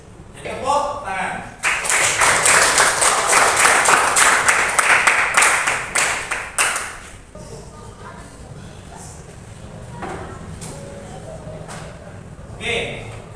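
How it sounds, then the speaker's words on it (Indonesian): Classroom of students clapping hands together, a dense burst of fast applause lasting several seconds before fading, followed by quieter room noise and a teacher's voice talking. "Jadi tepuk tangan."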